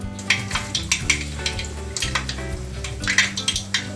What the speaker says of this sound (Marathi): तेल गरम झालं चांगलं कडकडीत की आपण त्याच्यामध्ये मोहरी टाकूया